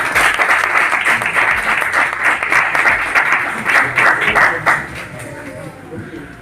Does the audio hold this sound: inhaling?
no